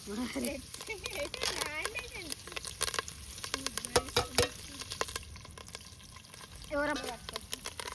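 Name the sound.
onions frying in pan for chicken dish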